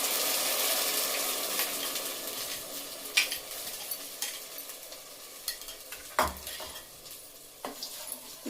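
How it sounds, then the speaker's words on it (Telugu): Tomato puree for pav bhaji frying in a pan over softened onions, a soft sizzle that fades gradually under intermittent stirring and scraping clicks of a spoon against the pan. "ఇప్పుడు టమాటా ప్యూరీ వేస్తున్నాను."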